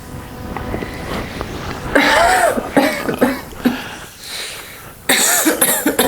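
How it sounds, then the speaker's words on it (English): Loud, harsh coughing from a person during a somatic energy therapy demonstration: several close coughing bursts spread across a few seconds, with short pauses and breathy sounds between them. "A lot of times you get that cough as the emotional system isn't kicking in, isn't integrating."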